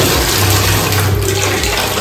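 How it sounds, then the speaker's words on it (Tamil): Hot water gushes steadily from a tap, a loud, close, continuous rushing with no pauses. "இப்படி நீங்கள் ஓப்பன் பண்ணீங்கன்னா இந்த சுடு தண்ணி வரும்."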